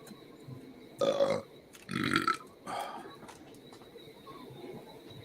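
A person sneezes during a relaxed late-night hangout outdoors, three short bursts spaced about a second apart, fairly close, over a steady background hum with no talking.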